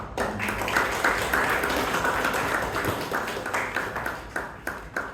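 A club audience at a Toastmasters anniversary meeting claps steadily for a welcomed speaker, a dense, sustained round of applause filling the room for about five seconds before thinning into scattered claps.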